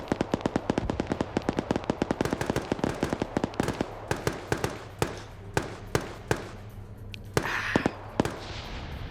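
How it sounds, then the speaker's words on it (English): Dense volleys of sharp blasts from mines exploding in a video game town, rapid at first and then thinning to spaced, punchy single bangs, loud and close with no talk. "We're hearing some mines go off in the town. Those low explosions"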